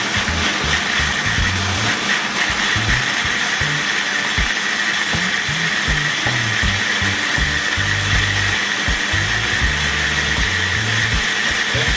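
A blender grinding cashew nuts for porridge, running loud and steady as a continuous whirring motor drone with a slightly uneven chopping rumble underneath, close up with no talk.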